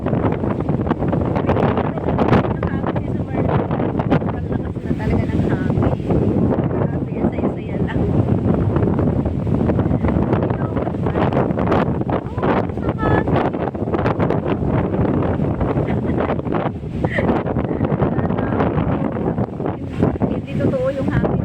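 Strong gusts buffet the microphone outdoors with continuous heavy rumbling, loud throughout and rising and falling in waves, while a voice is partly heard beneath the roar.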